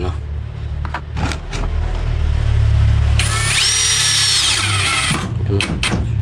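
A Keelat 4-in-1 cordless power tool in screw mode drives a black screw: a couple of brief handling knocks, then a loud, close motor whine for about two seconds, followed by a few more clunks.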